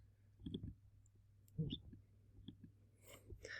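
Mouse clicks on a button while navigating an e-portfolio page: several faint, short, sharp clicks spaced irregularly in a quiet room.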